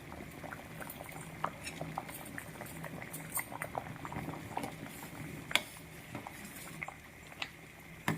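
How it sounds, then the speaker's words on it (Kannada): Field bean (avarekalu) saaru boils in a pot, a steady bubbling and popping with soft irregular plops and an occasional utensil clink, moderately close and without talk. "ಈಗ ಸಾರು ಬೆಂದಿದೆ"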